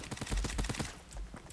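Fortnite video game gunfire, a rapid fusillade of close, loud shots fired in quick bursts, briefly easing before another few shots ring out.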